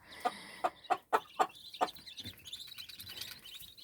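A frightened hen lets out a burst of sharp, loud clucks and squawks close by, with a few more agitated calls trailing off into softer rustling and chirping.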